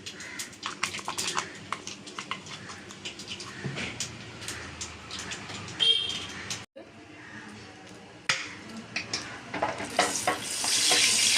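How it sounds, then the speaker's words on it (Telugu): Tempering spices sizzle and crackle in hot oil for a sour pickle, with a steady frying hiss, joined by occasional clinks of a spoon or pan. "మనం తాలింపు రెడీ చేసుకుంటున్నాం కదా"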